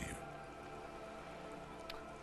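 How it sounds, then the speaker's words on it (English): Steady rain falling on wooden boards and open water in the game Disco Elysium, a dense, continuous patter with scattered drips, fairly quiet and unbroken throughout. "All around you, rain keeps falling down."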